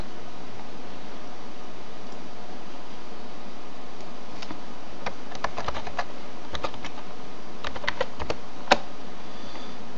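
A product key is typed on a computer keyboard for a Windows XP install, heard as light, irregular key clicks that come in clusters over a steady background hiss.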